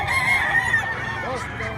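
A rooster crows loud and close in a drawn-out, wavering call, with other fowl and background voices faintly mixed in at a poultry market.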